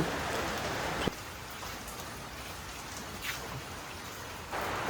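Steady rain hisses down with a constant wash of drops, swelling louder at the start and end, with no voices.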